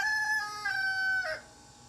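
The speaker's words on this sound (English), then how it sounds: "sorry for our rooster" A rooster crows once from a short distance, its harmonic call rising then falling and breaking off abruptly, with no talk over it.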